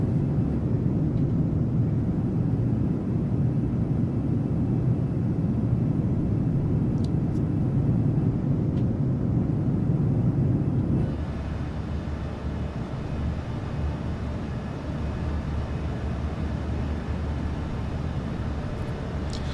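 A PMDG 737-700 in Microsoft Flight Simulator 2024 gives a steady, loud engine and cabin drone that holds without a break, then drops to a slightly thinner, quieter roar partway through.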